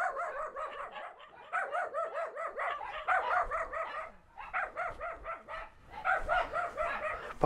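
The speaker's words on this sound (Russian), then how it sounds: "Похоже, только злые собачки." Several dogs at a rural village house in Oryol region, Russia, barking in rapid repeated bursts with short pauses between volleys, fairly close and alone without talk.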